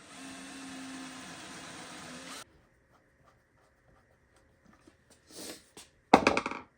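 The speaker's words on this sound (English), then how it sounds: "we should pre-drill those." A steady whirring power drill pre-drills wood for a couple of seconds, then stops; after a quiet pause come a few short knocks and scrapes.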